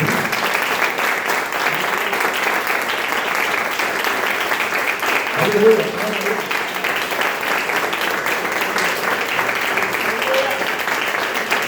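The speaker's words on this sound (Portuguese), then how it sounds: "Dê uma salva de palmas para o Senhor Jesus." A church congregation breaks into loud, sustained applause for Jesus, a thick continuous clatter of hands close by, while a voice calls out over it partway through.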